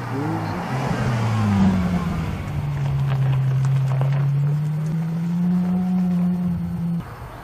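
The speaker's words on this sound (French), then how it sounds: "Une Ferrari F12." A Ferrari F12 sports car drives past at a car rally, its engine rising and holding in a long, loud, steady drone with pitch sweeping gradually, close by before it fades off.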